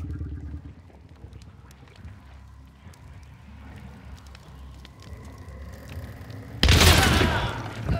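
Gunfire in the video game Hunt: Showdown, a single loud broadband shot bursting in near the end after a stretch of low ambient game noise and faint activity.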